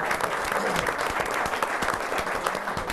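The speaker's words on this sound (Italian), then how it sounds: "Poi abbiamo i colleghi Stefano Edel, vediamo se arriva l'applauso." Audience applause at a football club event, a steady burst of clapping filling the whole moment at moderate volume with no talk.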